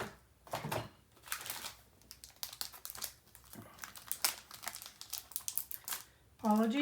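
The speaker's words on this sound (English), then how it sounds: "Now we will tape" Adhesive tape is pulled, torn and pressed onto a mini album page, a close series of crinkling, crackling and tearing bursts, ending with a brief voice.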